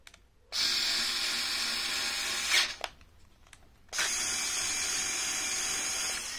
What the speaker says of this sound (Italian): vi faccio vedere il punto molto stretto dove sto avvitando.